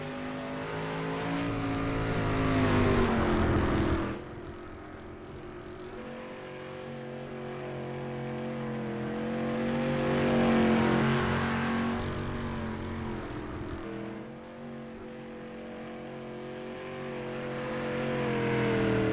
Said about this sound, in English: Trying to build momentum up in that race car.